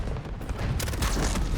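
Artillery strike explosion in the Call of Duty: Modern Warfare beta: a loud, close, rumbling blast with a heavy low boom that swells into a sharper burst partway through and keeps roaring to the end.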